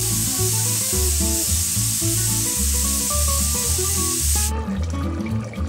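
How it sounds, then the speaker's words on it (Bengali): A pressure cooker holding goat mutton lets out a loud, steady steam hiss that cuts off abruptly near the end, with tonal background music running underneath throughout. "এই জন্য আমি মাংসটা প্রেসার কুকারে দিয়ে দিছি। 3টা সিটি দিয়ে নেব।"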